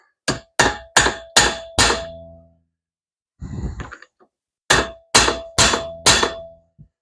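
Hammer blows tap a part down on a 1971 Dodge Challenger, four sharp metallic clangs in a row, then a pause with breathing, then four more ringing strikes, all loud and close.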